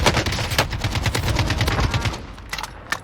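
Rapid bursts of gunfire and blasts in a Fortnite-style shooter match, dense close rattling shots for about two seconds, then sparser single cracks.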